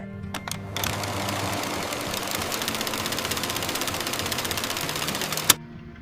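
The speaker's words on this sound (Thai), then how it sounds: "ท่ามกลางความเร่งรีบและเสียงเครื่องยนต์ที่ดังระงมกลางเมืองโคราช" A steady engine drone with rapid mechanical ticking rumbles close and loud in Korat city traffic, then stops abruptly after a sharp knock.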